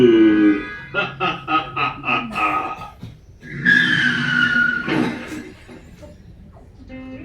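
A tire skids for a motorbike accident in a stage skit. A run of rhythmic bursts leads into a loud, drawn-out squeal, with voices mixed in around it.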